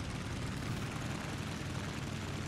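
Constant dense engine roar of an aircraft in War Thunder, steady and loud throughout without any break, its broadband drone filling the whole stretch with no speech over it.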